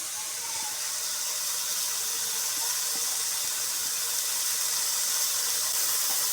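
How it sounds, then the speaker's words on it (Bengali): Water boiling in a cooking pot, a steady broad hissing and bubbling rush that holds at an even level throughout, close by and uninterrupted by speech. "জলটা ফুটে উঠেছে"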